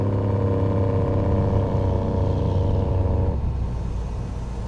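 Deep, steady diesel rumble of a heavy truck engine in American Truck Simulator, loud and close with layered harmonic drone, the throttle easing off and the tone thinning about three seconds in; no talking.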